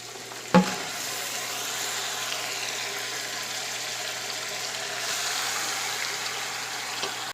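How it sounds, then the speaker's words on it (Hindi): Chicken and potatoes fry in a pot for degi chicken biryani, a steady close sizzle with a low hum, opening with a single sharp knock of a utensil. "पाँच से 6 मिनट तक चिकन को भूनेंगे।"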